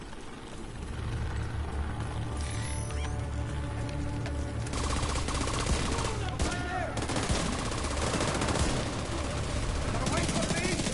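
Heavy gunfire in The Division 2, continuous automatic bursts and rapid shots layered over background combat noise, loud and sustained, with a player talking now and then.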